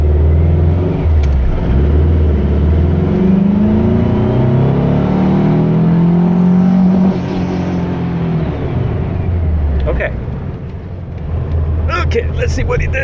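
A car fitted with pulse jet ignition accelerating on a test drive, its engine droning and rising in pitch over several seconds before easing off, heard from inside with a loud, close rumble and some talk toward the end.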